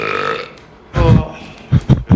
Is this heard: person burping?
yes